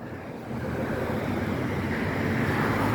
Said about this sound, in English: Yeah, it's windy here a lot